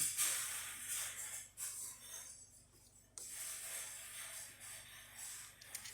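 A Breville Barista espresso machine's steam wand runs with a little leftover water in the system, giving a close, bright hiss that drops out briefly twice before resuming steadily.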